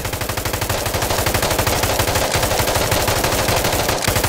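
An M249 SAW light machine gun fires in the Insurgency Sandstorm video game, one loud, close, unbroken burst of rapid automatic shots at an even rhythm.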